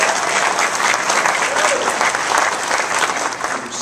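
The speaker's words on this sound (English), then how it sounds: "Collective round of applause to our state representatives" Dense, steady applause from a health care forum audience fills the room for a few seconds, continuous and fairly loud with no pause.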